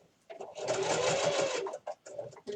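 Sewing machine stitching down fabric on a microwavable bowl cozy, a close steady mechanical whir for about a second, followed by a couple of short stitching bursts, with no talking.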